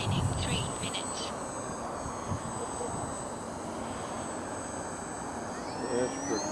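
An E-flite Timber radio-controlled model airplane on floats flies overhead with a steady electric motor whine and broadband buzz. The sound is moderately loud and continuous, and a voice seems to speak faintly underneath.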